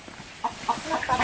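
Chickens cluck in a few short, soft bursts spaced apart over a faint background hum, moderately close but quiet.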